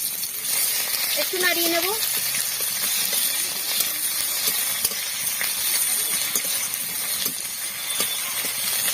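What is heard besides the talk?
chopped onion sizzling in hot oil while cooking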